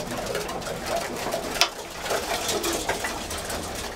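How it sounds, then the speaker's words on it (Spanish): An adult racing pigeon coos softly and repeatedly close by, its low murmuring calls over a busy background of rustling and mechanical hum, with one sharp tap midway. "Aparte es adulta la paloma."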